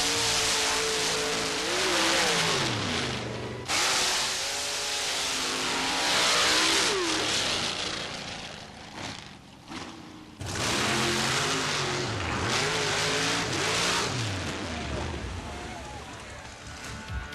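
Drag racing cars, among them a Chevy rail with a 615 cubic inch nitrous-burning motor and Corvettes, roaring loudly with rising and falling revs in repeated surges, with voices and crowd noise under the engines.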